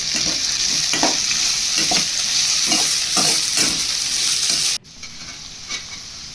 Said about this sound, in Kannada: ನಂತರ ಕ್ಯಾಪ್ಸಿಕಮ್ ಕೂಡ ಹಾಕ್ಕೊಂಡು ಫ್ರೈ ಮಾಡ್ಕೊತಾ ಇದ್ದೀನಿ.